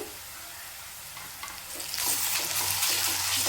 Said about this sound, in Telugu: అల్లం వెల్లుల్లి పేస్ట్ బాగా వేయించుకోవాలండి